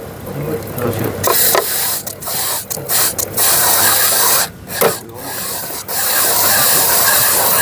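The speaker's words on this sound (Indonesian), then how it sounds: "Kayu ini pada akhirnya akan terkikis karena sifat abrasif dari amplas ini" Loud harsh grinding rasp of wood pressed against a spinning abrasive disc, broken by short gaps as the piece is lifted and pressed again.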